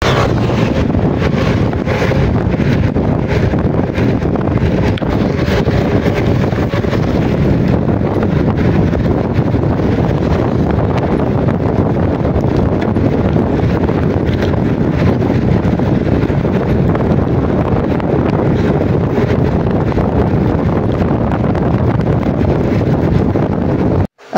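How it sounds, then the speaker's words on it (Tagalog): Strong headwind roars across the microphone during an afternoon bicycle ride, a loud, continuous buffeting rush that fills the whole stretch with no talking. "sobrang lakas po ng hangin dyan guys"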